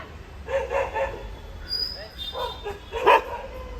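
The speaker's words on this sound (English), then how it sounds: "מה הכלב הזה רוצה ממני?" A dog barks in short bursts of yips and barks, a pair near the start and a louder single bark later, against faint background noise.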